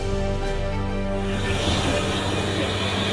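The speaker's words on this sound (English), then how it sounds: "That sound you can hear is the singing that you want to hear, so you know the injector's on." Union of South Africa steam locomotive with its injector singing, a steady harmonic whine with dense hiss over a low rumble, loud and close throughout, no talk.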